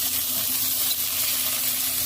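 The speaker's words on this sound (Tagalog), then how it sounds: "mainit na yung kawali, ilagay natin ang sausage na unan natin" Sausage frying in a hot pan without oil, giving a loud, continuous close-up sizzle with no talk.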